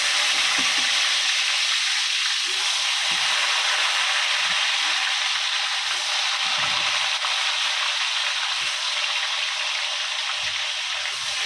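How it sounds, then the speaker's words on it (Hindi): Potatoes frying in a pan for a Kokani-style meal, a loud, continuous dense sizzle of hot oil with faint low clatters of stirring underneath and no talking. "अब बिस्मिल्लाहिर्रहमानिर्रहीम, आलू फ्राई करेंगे।"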